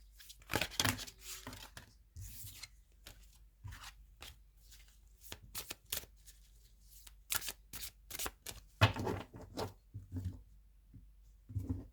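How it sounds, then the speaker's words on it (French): Tarot cards are shuffled by hand in repeated quick riffles and flutters, close up and fairly quiet, with brief pauses between bursts and no speech. "Je mélange les cartes et on se retrouve après."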